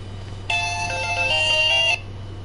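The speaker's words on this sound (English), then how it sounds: "That was just my phone letting me know I went live." A phone chimes a short electronic notification alert: a bright, clean tonal melody lasting about a second and a half. It is loud and close, over a faint low background hum, with no talking.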